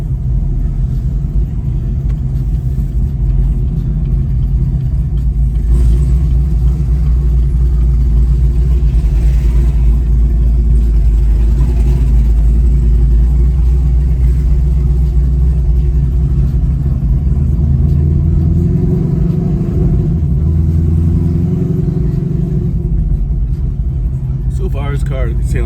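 ZL1 Camaro engine rumbling steadily for a long stretch, a loud low drone heard from inside the car with slight swells in pitch, and a voice speaking over it now and then.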